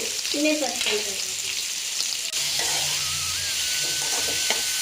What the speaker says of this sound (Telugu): ఇంకా ఆనియన్స్ వేస్తున్నానండి. ఆనియన్స్ కూడా బాగా వేపుకోవాలి.